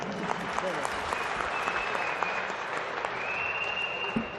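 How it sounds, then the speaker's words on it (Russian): Audience applause fills a hall at a Russian freestyle wrestling championship award ceremony in Ingushetia, steady clapping running throughout at moderate volume, with a voice faintly heard underneath. "Ваши аплодисменты, друзья."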